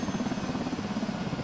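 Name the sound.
helicopter rotors in a flight simulator video game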